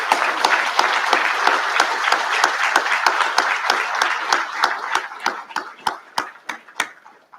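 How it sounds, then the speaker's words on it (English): An audience applauds at a school 8th grade recognition ceremony. It starts as steady, dense clapping from a large crowd, then thins out into scattered, distinct individual claps that fade away. "So if we could give a big round of applause for that would be great."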